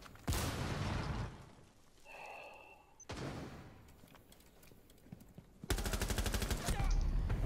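Gunfire in Rainbow Six Siege comes in sharp, loud bursts, with a rapid rattling volley at the start and another at the end, separated by quieter game sounds.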